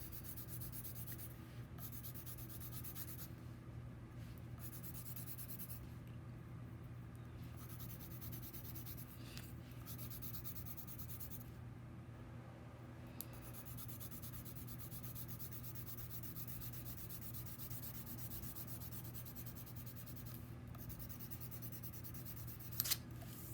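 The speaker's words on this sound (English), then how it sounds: "I'm just going to color it all in now." Crayon rubbing steadily across paper during a kindergarten graduation craft, a soft continuous scratchy scribbling that carries on for the whole stretch with no talk over it.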